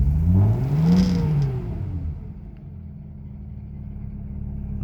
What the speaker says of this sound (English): just started up the Datsun